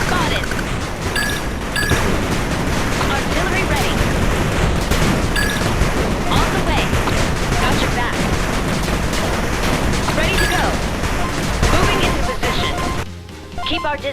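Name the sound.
artillery fire in video game 8-Bit Armies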